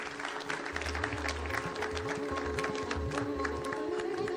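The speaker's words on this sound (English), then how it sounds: "We should all come together with a humane round of applause" Audience applause at a defence dialogue conference session: steady clapping from a seated crowd, moderately loud and sustained for several seconds, with no talk over it.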